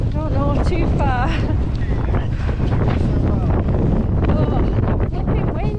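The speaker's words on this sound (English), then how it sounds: "Oh, flipping wind." Strong wind roars across an exposed hill during a 70 km Yorkshire Three Peaks ultramarathon, a loud, constant buffeting rush battering the microphone throughout, with voices speaking intermittently beneath it.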